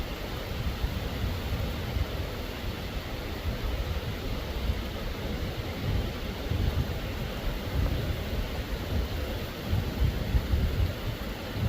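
Heavy rain falls steadily on a farm pasture where cattle graze, a dense, even roar of broadband noise that holds constant for over ten seconds with no voices.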